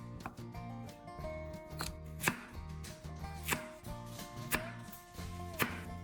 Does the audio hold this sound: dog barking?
no